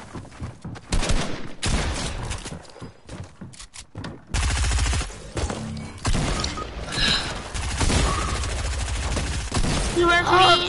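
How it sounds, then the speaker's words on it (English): Submachine gun fire in a first-person video game, rapid bursts of shots with crashing impacts and short gaps between volleys, loud and close, mixed with other game noise. "Of course that person had to have a SMG."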